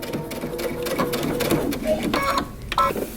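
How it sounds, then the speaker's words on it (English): A sewing machine back stitches a side seam on a long coat, its motor whirring steadily and close for about three seconds, the stitching rhythm faltering briefly near the end. "I'm going to stop and back stitch at the first dot."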